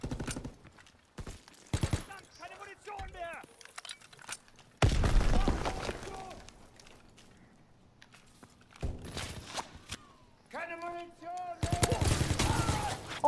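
Gunfire in a WWII shooter game set during Operation Neptune defense, with loud broadband bursts of shots at several moments, interleaved with voices talking between the volleys.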